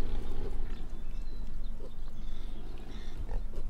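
Pigs in the farm game Farming Simulator 15 give low, repeated grunts and oinks as they are fed, with a steady farmyard rumble underneath.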